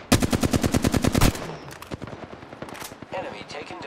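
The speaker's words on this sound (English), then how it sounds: "I am taking fire, friends" Rapid automatic gunfire in a shooter video game rattles out in a loud, fast burst lasting over a second, followed by scattered quieter shots, impacts and game effects.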